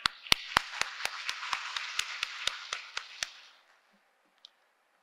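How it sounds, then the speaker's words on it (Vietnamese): About a dozen sharp, evenly spaced claps ring out at a university alumni talk show, crisp and isolated with a short reverberant tail, then stop, leaving near silence and one faint late clap. "Xin nhiệt liệt chào mừng và xin một tràng vỗ tay ạ."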